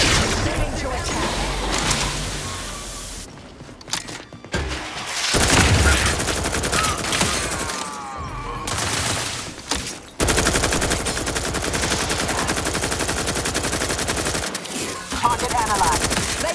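Weapons fire in The Outer Worlds 2, heavy sustained bursts of automatic gunfire and booms filling the scene nearly continuously, with combat voices speaking over the barrage.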